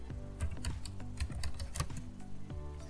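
Rapid clacking keystrokes on a computer keyboard as commands are typed, a steady fast patter of light clicks over a low background hum, close and without talk.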